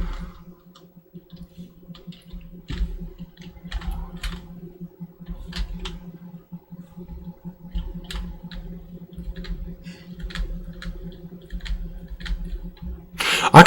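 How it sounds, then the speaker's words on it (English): Steady keyboard typing with scattered sharp clicks, close and fairly quiet over a low hum, ending in a louder burst. "I can never seem to pick anything else up but the keyboard and mouse."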